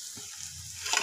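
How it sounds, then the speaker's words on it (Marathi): Cluster beans being stirred in a dry stir-fry pan after chopped coriander goes in, a soft steady sizzle with a brief louder scrape of stirring near the end. "बारीक चिरलेली कोथिंबीर टाकलेली आहे आणि थोडंसं हलवून घेऊया."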